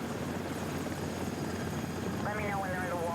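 Steady, close helicopter rotor thrum over the sea with a continuous rushing roar, and a brief voice breaks in toward the end.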